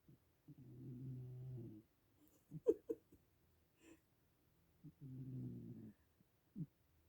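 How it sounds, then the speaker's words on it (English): Soft, rhythmic snoring from a sleeper heard up close: a few quiet, drawn-out rasping breaths separated by short gaps and small snorts. "snoring up a storm"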